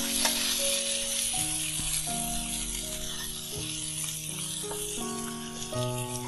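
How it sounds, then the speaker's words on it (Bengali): Boiled potatoes fried with cumin seeds sizzle in a pan as chaat masala is stirred through them, a steady close hiss under music with occasional scraping. "একবার মিশিয়ে নিচ্ছি মশলাটা।"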